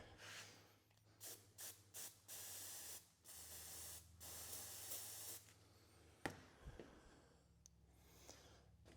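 Repeated short hissing bursts from an aerosol can of crack-detection developer, then a longer steady spray, followed by quieter handling clicks and rustles.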